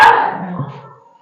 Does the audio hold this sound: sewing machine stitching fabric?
no